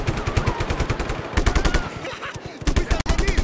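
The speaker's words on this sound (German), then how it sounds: "Wetten, die Kanone funktioniert noch?" A vehicle-mounted cannon fires in Just Cause 3, a rapid, dense stream of loud, close automatic blasts running continuously with brief gaps, with faint voice traces beneath.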